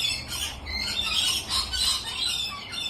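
Parrots at play give a run of harsh, rasping squawks that overlap and repeat, heard at moderate distance and fairly soft.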